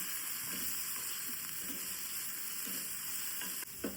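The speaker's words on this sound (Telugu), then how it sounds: "ఇంకో పక్క క్యారెట్ ఫ్రై అవుతుంది" Carrots frying in a pan give a steady, close sizzling hiss that never lets up, with a few soft stirring scrapes mixed in.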